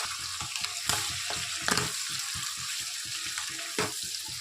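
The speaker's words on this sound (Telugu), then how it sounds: "లివర్లు ఎప్పుడు ఫ్రై చేసినా కానీ టప్ టప్ టప్ పేలుతుంటాయి" Liver fries in a covered pan with tomato added for gravy, giving a steady, close sizzle broken by sharp pops and spatters scattered throughout, with no talking.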